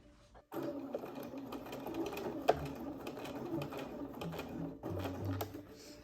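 A sewing machine stitches back and forth across a dress placket, a steady fast mechanical whir in short bursts with brief pauses as the direction changes, quiet and close.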